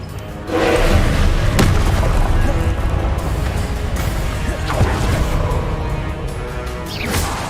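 In Hogwarts Legacy, a Confringo fire spell explodes, followed by a loud rumbling boom and a dense, sustained roar of blasts, with sharp cracks and crashes breaking through.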